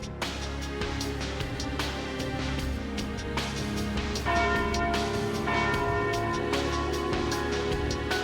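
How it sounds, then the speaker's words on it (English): A large bell tolls at noon in the video game Trails Through Daybreak, struck repeatedly in a steady rhythm. Its ringing overtones pile up into a loud, continuous wash that fills the whole stretch, with no voices. "there's the noon bell"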